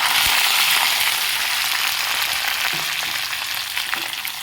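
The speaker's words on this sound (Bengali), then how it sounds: "এরপরে সমস্ত যে সবজিগুলো ভেজে রেখেছি দিয়ে দেব।" Five-spice panch phoron frying in hot oil gives a continuous bright sizzle, loud at first and easing slightly, with no talking.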